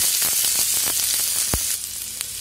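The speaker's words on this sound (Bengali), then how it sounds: "আদা রসুন একটু ভাজা হয়ে গেছে" Ginger and garlic, crushed and added to onions already browning, fry in a pan with a steady close sizzle and a few scraping stirs, no talking.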